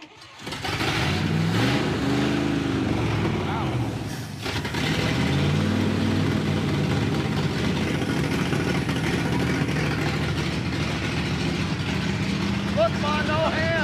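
A pickup truck engine with an exhaust leak runs and revs with a rough, raspy sputter, loud and close, while people talk over it.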